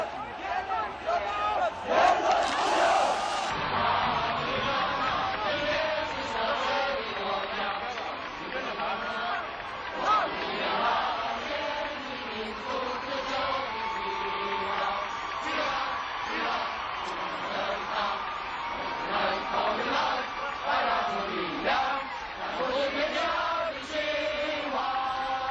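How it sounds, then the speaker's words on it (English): Tens of thousands of student demonstrators fill the streets, singing, chanting and cheering in a dense, roaring crowd noise that swells and surges. Voices rise above it now and then. "Tens of thousands of students responded by crowding the streets, singing, chanting, cheering, and creating a jubilant noise that was deafening."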